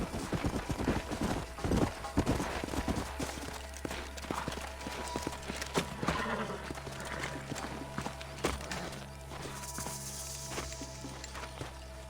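Horse hooves clip-clop at a walking pace over ground in the video game Red Dead Redemption Remastered, irregular and fairly close, with some rustling and background game ambience.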